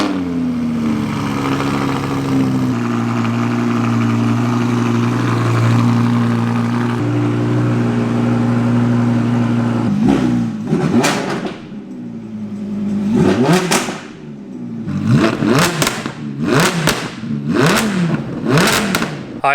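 Audi R8 V10 Plus with a Quicksilver exhaust, first a steady loud idle drone, then a series of sharp, crackling throttle blips revving up and falling back, close by with no talking.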